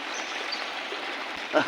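Flood water pours over a bridge in heavy Konkan monsoon rain, a steady broadband rush that is moderately close, with a brief bump of noise at the very end.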